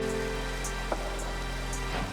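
Rain in the video game Minecraft with the Monifactory modpack, a steady hiss of falling rain and patter on surfaces, a continuous wash under faint game tones and an occasional click.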